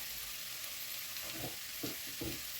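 Mushrooms coated with a spoonful of flour fry quietly in a pan, a soft continuous sizzle broken by a few scraping stirs toward the end.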